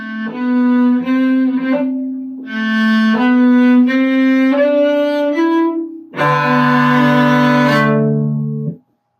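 Solo cello plays a passage from Bréval's Sonata in C, a close, loud string of bowed notes in three phrases, the last ending on a fuller double stop that fades to silence.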